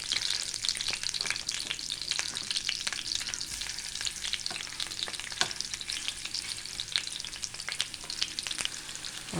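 Tuna pieces fry in hot coconut oil with curry leaves for a fish pickle, making a dense, continuous, close sizzle and crackle with frequent sharp pops that run steadily throughout, with no voices.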